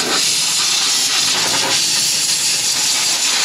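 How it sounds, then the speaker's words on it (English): Compressed-air gun blasting dirt and towel fibers from under the valve cover area of a Ford 5.4 Triton engine, a loud, steady, close hiss of rushing air lasting throughout, with slight surges in intensity and no talking. "Let's go ahead and get back in here with that air gun. We're gonna clean off any towel fibers or dirt that's made its way under this valve cover area"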